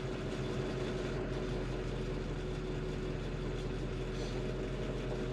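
A Ford 6.0 Powerstroke diesel engine idles with a steady, low, rumbling drone and constant mechanical clatter, continuous and unchanging throughout.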